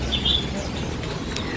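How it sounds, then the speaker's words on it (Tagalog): Birds for sale in a bird shop give a few short, bright chirps over a steady background hum, fairly faint and brief, with no talking. "Yung pala ibon."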